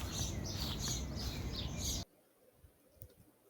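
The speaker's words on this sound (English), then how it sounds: "Hearing the sound of birds," Birds chirp in quick repeated tweets over steady outdoor hiss, then the background drops away leaving a faint, sparse chirp or two.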